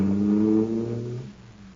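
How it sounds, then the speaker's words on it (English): A supercharged cartoon car's engine roars with a deep, droning harmonic growl, holding steady and loud for under a second before dropping and trailing off. "Boy, that cosmic surface car is really roaring."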